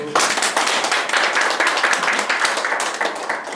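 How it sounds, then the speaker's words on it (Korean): Audience applause at a talk on colour, a dense burst of many hands clapping that rises sharply and holds steady and fairly loud throughout, with no voices over it. "박수."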